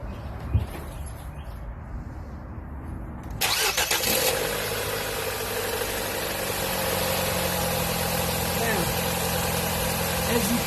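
A 2009 Nissan Sentra fitted with an exhaust back pressure gauge cranks and starts after a quiet pause, then settles into a steady, even idle that drones on close by.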